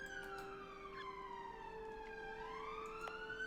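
An emergency vehicle siren wails outdoors at moderate distance, its pitch sweeping down and then back up in a slow continuous tone.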